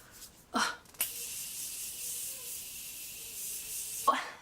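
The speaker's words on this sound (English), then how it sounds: "I don't have any e.l.f. setting spray, so I'm just going to use my Morphe one." Morphe makeup setting spray mists in one long, steady hiss of about three seconds, close up, with a short breathy sound just before it.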